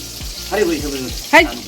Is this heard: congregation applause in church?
no